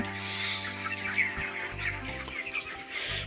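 Chickens on a poultry farm cluck and murmur steadily, with several birds calling at once at close range, a continuous low flock chatter and no talking over it.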